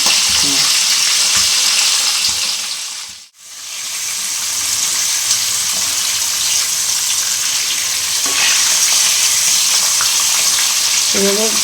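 A fish head fries in a wok for cabbage curry, giving a loud, steady sizzle that drops out briefly for a moment before resuming, with faint stirring clatter near the end.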